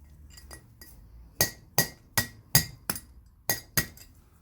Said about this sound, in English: get the tang removal tool, which is just a straight bit of metal, and give it a crack